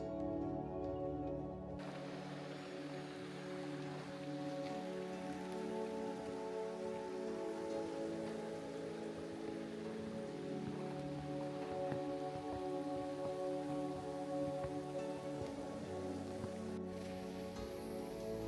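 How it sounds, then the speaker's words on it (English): Rain falls steadily at Miyajima in Hiroshima, Japan, a close, even patter of drops that carries on without a break, over a faint sustained hum and with no voices. "it started to rain, just in time as we were finishing our outdoors hike."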